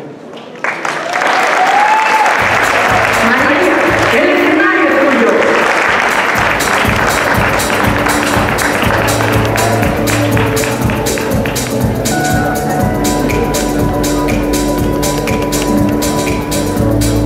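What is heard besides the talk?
audience applause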